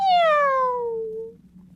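A single drawn-out cat meow, clear and close, falling in pitch and fading over under two seconds against a quiet background.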